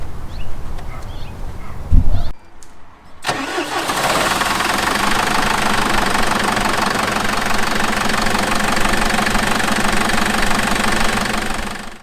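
A Mercedes Unimog U3000 diesel engine cranks and starts, then settles into a steady, loud, knocking idle that runs on without a break.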